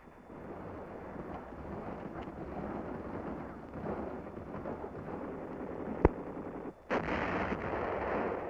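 Wartime battlefield gunfire from troops firing rifles at close range against snipers, with artillery nearby: a steady rumbling barrage under rough wind noise, a sharp crack near the end, then a louder burst.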